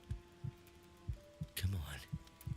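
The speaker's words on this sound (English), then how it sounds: "I can hear our heartbeat, so that must mean things are getting desperate" A heartbeat pounds in The Long Dark, low thumps arriving in paired beats at a steady rhythm over a faint hum, briefly crossed by a brighter rustling burst in the middle.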